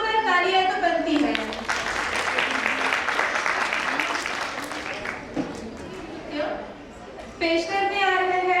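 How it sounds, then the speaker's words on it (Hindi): Applause for young children rises at a school camp closing cultural program, with a voice speaking at the start and again at the end framing a stretch of crowd clapping that fades midway. "इन नन्हे मुन्ने फरिश्तों के लिए जोरदार तालियां तो बनती है"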